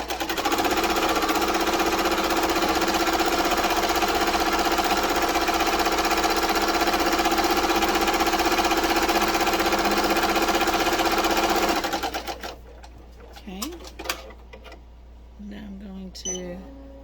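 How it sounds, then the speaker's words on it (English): Embroidery machine stitching placement lines for a Grinch face on a pillow project, a loud, rapid, steady mechanical whirring and needle clatter that runs unbroken for about twelve seconds and then stops, leaving faint handling noises. "So, I'm going to hit go. It's going to do the placement lines for the Grinch face"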